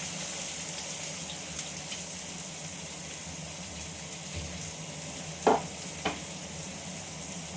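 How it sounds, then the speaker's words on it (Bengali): Vegetables fry in hot oil in a kadai wok with a low, steady sizzle, broken by a few light scrapes and taps of a spatula while they are stirred. "কড়াইতে সবজিটা ঢেলে দিলাম।"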